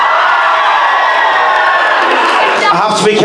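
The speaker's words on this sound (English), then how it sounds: "Let's hear it for this section!" A section of a school variety-show audience cheers in a loud, dense wash of shouts and whoops that holds steady, then breaks up near the end as a voice comes through.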